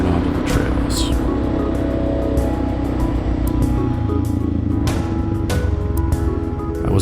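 A Suzuki DR 650 motorcycle engine runs steadily while pulling away in first gear, a loud, continuous close drone with faint ticks and rattles on top.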